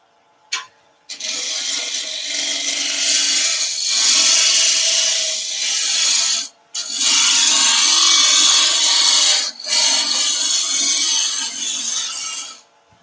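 A skew chisel cuts a cabriole leg spinning on a wood lathe, producing a steady hissing, shaving rasp in several sustained passes broken by brief pauses.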